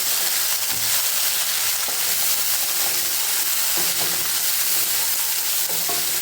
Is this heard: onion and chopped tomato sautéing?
yes